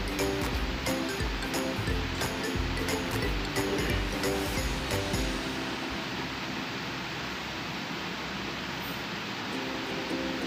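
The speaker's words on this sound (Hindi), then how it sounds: "फिर हम दो चम्मच तेल डालेंगे थोड़ा सा राई दाना डालेंगे" Mustard seeds crackle and sizzle in about two spoonfuls of hot oil while taro leaf fritters are being made, a steady dense hiss with scattered pops that thins out partway through.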